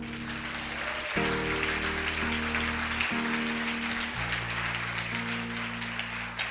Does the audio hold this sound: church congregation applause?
yes